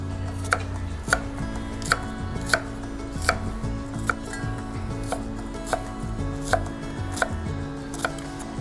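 Onions chopped on a cutting board, a steady rhythm of crisp knife strikes about every three-quarters of a second, close and clear with no talk.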